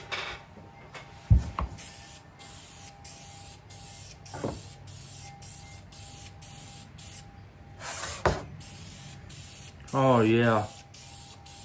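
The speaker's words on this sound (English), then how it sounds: "We're going to spray some clear lacquer." Clear lacquer hissing from a spray can in short bursts, with a few sharp taps and clicks between them and a brief spoken exclamation partway through.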